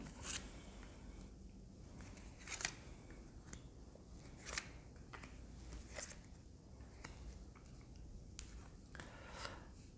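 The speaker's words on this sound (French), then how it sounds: "je prends encore 4 cartes" Cards are drawn one by one from a deck, giving soft, faint snapping and sliding flicks at irregular intervals in a quiet room.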